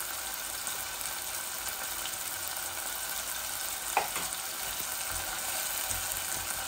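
Onion with ginger and garlic paste sizzles steadily in a hot pan, a faint even crackle throughout with one small clink of a utensil near the middle.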